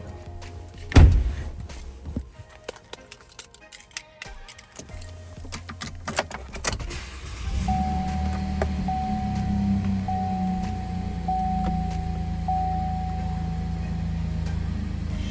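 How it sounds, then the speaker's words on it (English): A 2022 Chevrolet Colorado 4WD Z71 pickup: scattered thunks and clicks from inside the cab come first, then the engine starts and settles into a steady low idle with a repeating dashboard chime tone. "I'll now just get in this vehicle and turn it on for you."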